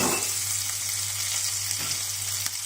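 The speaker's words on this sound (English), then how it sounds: "Saute a little bit. Then turn to high heat." Garlic and chili sautéing in a pan for Thai pad kra pow, a steady, close hissing sizzle with an underlying hum and faint stirring scrapes, with no talking.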